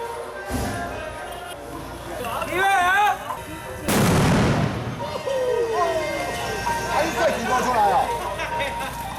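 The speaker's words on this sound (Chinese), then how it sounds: "满天边的纸炮声" Sharp bursts of paper firecrackers crack and pop at a village festival, with one loud burst midway, while people chatter and shout in a busy crowd around them.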